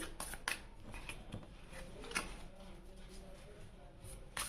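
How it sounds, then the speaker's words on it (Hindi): Tarot cards shuffled by hand: soft, faint riffling and flicking with a few sharper snaps, quiet and close throughout. "मैं कार्ड को शफल कर लेती हूँ"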